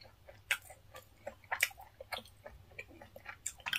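Close, wet chewing of grilled tomato with soft, irregular squelches and mouth clicks, some sharper bites standing out, quiet and without talk.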